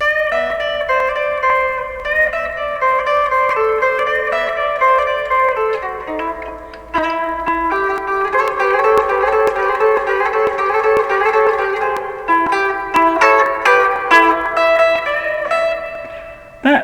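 A guitar plays a tune with reverb-tinged melody notes over sustained chords, moving through the phrase continuously for about seventeen seconds with no talking.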